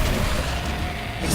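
A Confringo fire spell blast in Hogwarts Legacy on PS5, heard as a sustained, loud low-end boom that rumbles steadily through the short moment with no clear separate hits.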